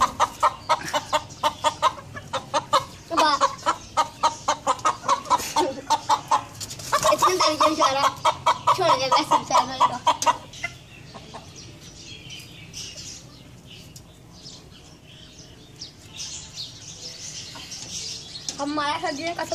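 Desi hens clucking in rhythmic bursts through the first half, loud and close, then fainter calls over a quieter yard with background noise.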